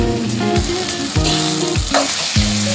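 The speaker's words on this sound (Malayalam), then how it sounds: "അതിലേക്ക് ഉള്ളി തക്കാളിയൊക്കെ വഴറ്റി കുറച്ച് ഫ്രൈ ആയിട്ടുണ്ട്." Onions and tomatoes sauté in a pan for a dry fish roast. A loud, steady sizzle is broken by rhythmic stirring strokes, with no voices.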